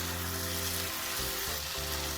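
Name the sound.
stirring boiled kidney beans into sizzling tomato masala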